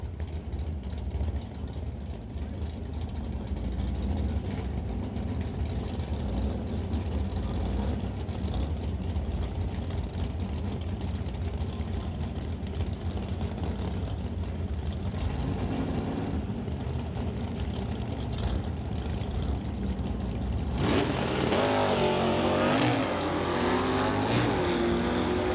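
A 1963 Ford Falcon makes a Super Shifters drag racing pass, its engine giving a steady, loud roar that swells near the end into a harsh, rising howl of revs close by.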